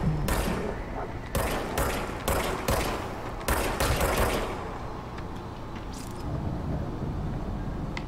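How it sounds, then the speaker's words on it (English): Gunfire from a weapon in the video game Control rings out in a rapid string of sharp, loud shots over the first few seconds, then gives way to a lingering mechanical hum and faint ambient rumble. "I'll fire it when I have something to fire at."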